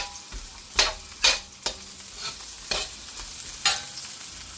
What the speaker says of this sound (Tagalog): Masarap igisa yung garlic